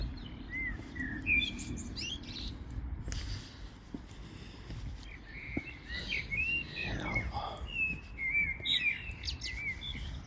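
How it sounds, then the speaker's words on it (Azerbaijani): Birds sing and chirp in greenery outdoors, with scattered bright tweets and short whistles coming and going over a soft, rustling background and some faint low voices. "Bu səsi eşidirsiniz. Quşların səsi."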